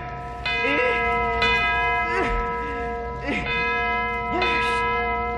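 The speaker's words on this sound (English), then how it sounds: "Here's the bell, and here's the cord. Now I'll swing it hard." A bell rung by swinging its cord sounds in steady, ringing strokes with sustained overtones, about four strikes over several seconds, loud and close, while a voice sings or speaks over it.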